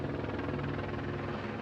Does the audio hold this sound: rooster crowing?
no